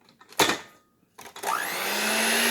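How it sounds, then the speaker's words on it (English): An electric mixer whirs briefly in coconut pancake batter, pauses, then starts again and runs on in a steady, loud whine. "be very careful when you blend this in. Make sure your spatula don't get caught in the mixer."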